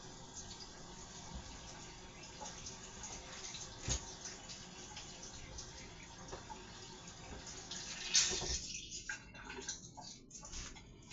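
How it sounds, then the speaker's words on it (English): Tap water runs steadily over ripped-up paper in a sink, a faint continuous splashing hiss that briefly grows louder and choppier near the end. "you just rip it and you put it under some water"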